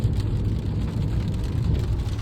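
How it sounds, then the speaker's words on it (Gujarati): Light rain falls steadily and close by during a drive on the way to a wedding, a dense even hiss with soft low rumble underneath and no voices. "બહુ એવો બધો હેવી વરસાદ નથી પણ વરસાદ છે એમ."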